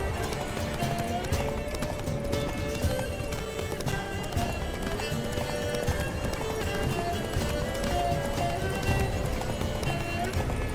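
A horse gallops with rapid, steady hoofbeats under continuous game music in The Witcher 3, with a voice speaking briefly over it.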